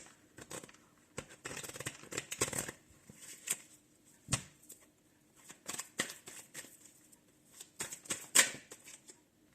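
Oracle cards being shuffled for a tarot reading, a run of close, soft riffling bursts separated by short pauses, with no voice over them.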